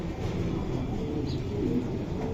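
Racing pigeon chicks of the Checker breed, already learning to feed, coo softly and continuously in a loft, with a low, steady murmur throughout.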